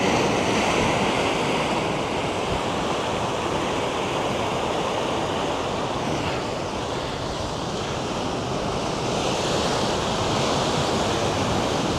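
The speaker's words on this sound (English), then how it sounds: "They're expecting bigger waves today." Ocean waves surge and break on a volcanic rock shore under a red-flag warning for big surf, a continuous loud roaring wash with gentle swells and hiss, no voices.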